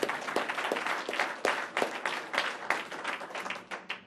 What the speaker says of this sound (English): Can we give that a round of applause?